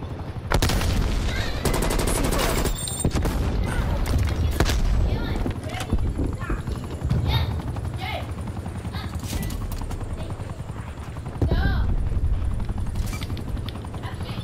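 Rapid gunfire crackles through a Call of Duty: Cold War multiplayer match, loud bursts of automatic shots clustered early and recurring later amid game announcer callouts and voices.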